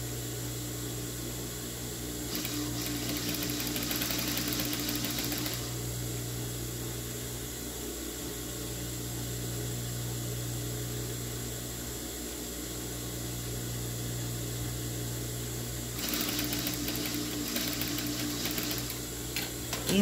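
A sewing machine stitches a dish towel in a steady close mechanical whir and hum, with two short bursts of faster, louder running, and no talking.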